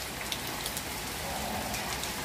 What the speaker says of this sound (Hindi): और बारिश देखो।